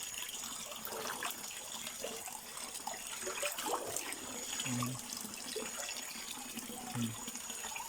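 Water runs steadily from a tap into a basin while a water tank is washed out, a constant splashing rush with small clinks, and someone murmurs briefly.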